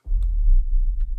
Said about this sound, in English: I'm going to add a sub bump, a really low drum that sounds like this